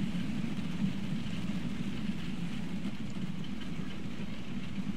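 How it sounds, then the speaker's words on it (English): Passenger train running in a railway video game, a steady low rumbling roll with a faint hiss on top, even and continuous with no voices. "That train makes good money."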